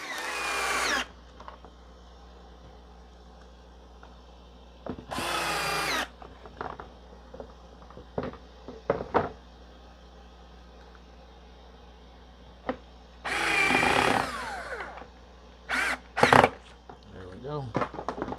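A power drill drives screws into pocket holes in a woodworking build, several short loud bursts of whining motor separated by quiet gaps, with occasional clicks and handling noises between them.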